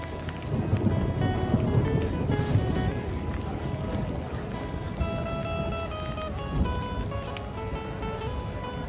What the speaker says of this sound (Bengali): প্রচণ্ড বৃষ্টি প্রচণ্ড পরিমাণে বৃষ্টি বজ্র বিদ্যুৎ সমস্ত কিছুই পড়ছে